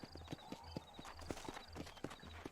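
Horse hooves clip-clop in a steady trotting rhythm in the Red Dead Redemption video game, quiet and close, with faint background ambience and no talk.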